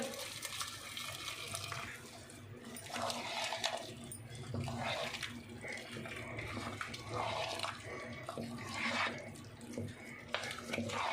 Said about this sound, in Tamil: குழம்ப ஊற்றிக்கலாங்க